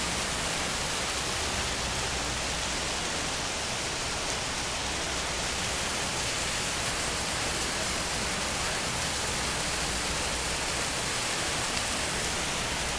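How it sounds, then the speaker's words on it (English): Indoor waterfall inside a Bass Pro Shop store, a steady, even rush of falling water that fills the space continuously with no breaks and no talking. "A store that has their own waterfall."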